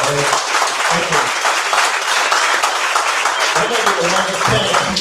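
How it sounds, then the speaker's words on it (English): Audience applause for a panel at a tech week event in New York fills the room, a dense, steady wash of many hands clapping, with a voice speaking over it. "please provide a round of applause to our panel"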